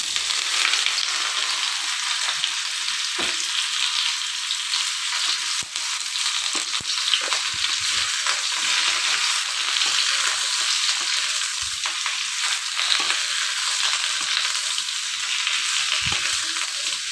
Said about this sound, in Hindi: चार पाँच मिनट तक आपां इहनूं फ्राई कर लेना है।